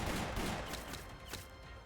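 A gunfire volley from statue guns in a video game, heard as a dense, loud burst of overlapping shots with a few sharper cracks standing out over a continuous roar.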